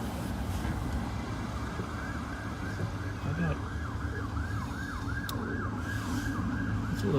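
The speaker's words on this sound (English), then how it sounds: "I hear a siren there, Pat." Emergency vehicle siren wailing in a steady rising and falling cycle over a constant road and engine rumble, moderately close and continuous throughout, without any voices.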